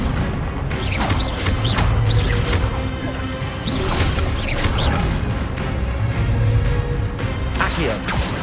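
Incendio fire spells cast repeatedly in Hogwarts Legacy, with bursts of whooshing flame and crashing impacts recurring every second or two over steady loud combat noise and music.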